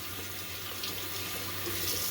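A bathroom tap runs steadily during wet shaving with Proraso Green lather, a constant close hiss of flowing water filling a sink, with no other sound.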